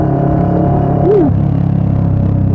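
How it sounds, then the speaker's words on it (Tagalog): A CFMOTO NK400 motorcycle's exhaust drones steadily in a low, continuous rumble while riding on an expressway, with a brief rising-and-falling tone passing partway through. "Ayun, rinig nyo ba yung tambucho?"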